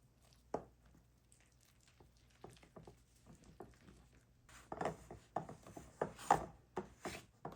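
Bread dough being mixed in a bowl with a spoon, flour worked in until no dry bits remain: soft, irregular rubbing and scraping strokes, faint at first, then a run of louder, closer scrapes toward the end, no talking.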